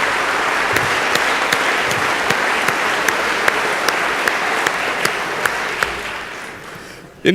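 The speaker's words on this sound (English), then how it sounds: "everybody started applauding beforehand" Sustained applause in the House of Representatives chamber, a dense crowd of clapping with sharp individual claps standing out, steady and loud for several seconds.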